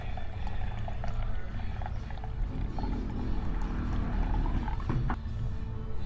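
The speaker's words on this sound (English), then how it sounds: "So you just want to carefully pour" Hot pepper tincture liquid being poured carefully, a soft continuous trickle close by at low volume with no talking.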